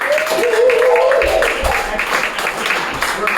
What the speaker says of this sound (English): please give raucous applause